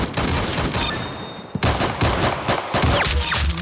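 Pistol shots fired on a beach, loud rapid cracks in quick succession with a short lull before more shots ring out.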